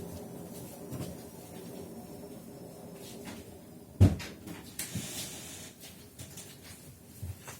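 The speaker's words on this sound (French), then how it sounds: "J'ai fermé la porte de la machine à laver, mais elle s'est rouverte derrière moi." A washing machine door swings shut with a single sharp thud partway through, followed by a few fainter knocks and rattles in a quiet indoor room.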